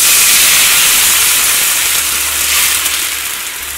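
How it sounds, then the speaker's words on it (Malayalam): Water poured into a very hot pan with dried chillies bursts into loud, close sizzling and steamy hiss that holds steady and fades slightly over a few seconds. "വെള്ളം ചേർക്കുമ്പോൾ സൂക്ഷിച്ച് ചേർക്കണം കേട്ടോ, കാരണം നമ്മുടെ പാൻ നന്നായിട്ട് ചൂടായിട്ടിരിക്കുകയായിരിക്കും."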